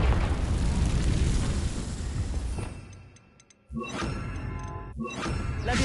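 Confringo fire spell from the video game Hogwarts Legacy, a loud roaring fiery blast that fades out, then two sharp crackling impacts follow in quick succession.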